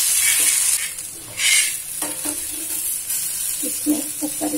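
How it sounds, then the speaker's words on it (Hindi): Salad rolls shallow-frying in oil sizzle and crackle in a pan, with occasional stirring and clinks of utensils, close and fairly loud. "और इनको करेंगे हम शैलो फ्राई"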